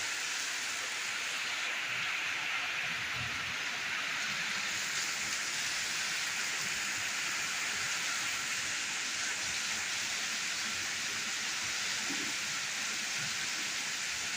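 Steady, heavy rain hisses continuously without pause in Sahiwal, a dense wash of falling water with no voices.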